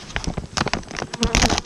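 A swarm of honey bees of unknown temperament, freshly caught and full of honey, buzzes up close in dense, fluttering bursts with a steady insect hum throughout.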